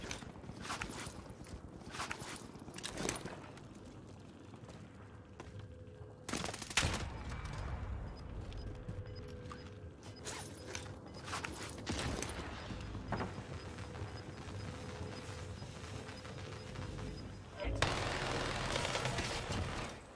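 Gunfire in Warzone 2.0 comes in scattered sharp bursts and single shots. Between them are footsteps and gear movement at moderate volume, and no talking is heard.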